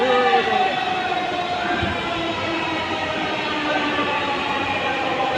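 A metro train runs past steadily on the opposite track with a sustained rumbling drone and whining tones, no voices heard.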